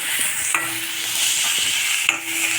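Onion frying to golden in hot oil for jeera rice, a loud continuous sizzle close up with occasional light stirring clicks and scrapes from a spoon in the pan.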